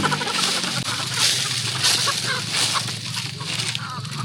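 Chickens on a farm squawking and clucking in a busy flock, close and continuous, with people talking faintly among them.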